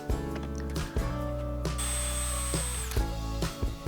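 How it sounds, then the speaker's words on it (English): Power drill with a drill guide boring 1 1/8-inch holes straight down into a wooden sawhorse top rail, loud and close, a steady whining drone broken by brief stops and restarts, with no talking. "The drill guide helps me drill straight down."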